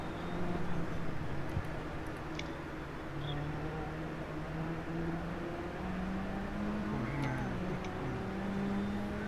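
A car engine in a driving game drones steadily with shifting pitch throughout, a continuous mid-loud hum with faint background noise and no clear voices.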